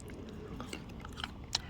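Someone bites into and chews a crunchy green mango, with soft, scattered crunches close to the mic and one sharper bite near the end, over a quiet room hiss.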